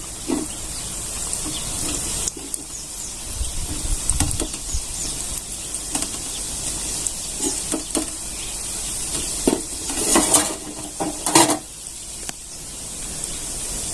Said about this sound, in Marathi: हे सगळे गुलाबजाम आपण असेच तळून घेऊया कमी गॅसवर